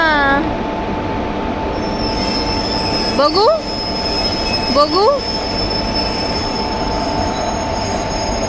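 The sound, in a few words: train cars rolling as locomotive engine is changed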